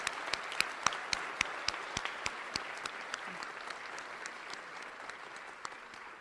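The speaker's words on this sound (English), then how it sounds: "Can I please have another round of applause for our newest members of the National Honor Society?" Applause at a high school National Honor Society induction ceremony, with a soft, broad wash of many hands and a few louder, distinct claps ringing out near the start before it gradually thins.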